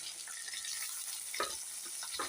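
Sliced ridge gourd and onions fry in a pan for chutney, giving a faint, steady hiss with a couple of soft stirring knocks, and no talking.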